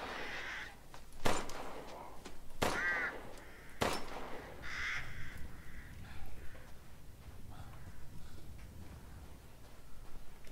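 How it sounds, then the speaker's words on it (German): Ravens in the video game Resident Evil Village give several sharp, separate caws over a quiet, rustling background, spaced a second or so apart early on before fading into low ambience. "Hör doch schon wieder ein paar Raben hier."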